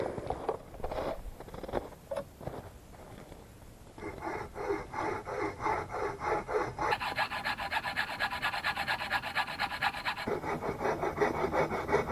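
A hand saw cuts through dense wood for firewood on a solo winter overnight camp, with near rhythmic rasping strokes that speed up into a fast, steady sawing pattern as the cut goes on.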